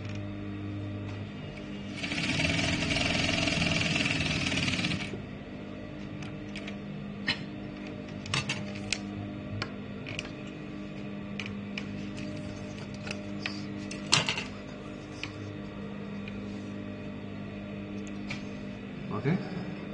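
A sewing machine stitches the opening hem of a square shirt pocket in a short burst of a few seconds, followed by quiet clicks and fabric handling under soft talk.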